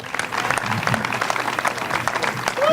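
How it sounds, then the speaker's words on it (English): Sustained applause from an audience at a political gathering, dense steady clapping filling the room at a fairly loud level, with some crowd noise mixed in. "Give a warm applause for Norm Hughes, Michigan Conservative Union"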